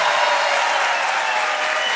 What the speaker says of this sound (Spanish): Aplausos para Belis Mago